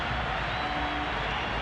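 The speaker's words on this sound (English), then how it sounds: "Just listen to the crowd." Crowd at a cricket stadium during an Australia versus South Africa T20 international, a steady, broad roar of cheering voices filling the whole moment, no single voice standing out.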